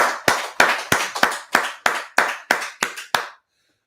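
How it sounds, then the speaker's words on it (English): About ten sharp, evenly spaced hand claps ring out close and loud, ending abruptly with silence after, a short round of applause at a brotherhood class gathering. "Everybody, Twa, clap it up, man."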